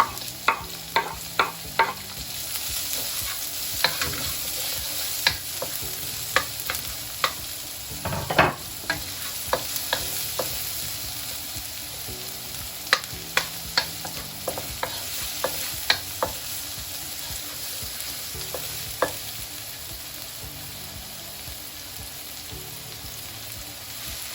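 Garlic and onions stir-frying in hot oil in a pan for a stir-fried egg noodle dish, a steady close sizzle with repeated sharp clacks of a utensil scraping and stirring, no voices.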